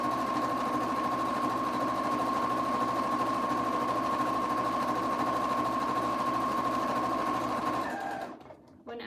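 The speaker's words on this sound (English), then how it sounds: "sew with my sewing machine needle in the down position" A sewing machine stitches 100% quilting cotton for a surgical scrub cap with a steady, fast mechanical whir and a high hum, running continuously before stopping abruptly at the end.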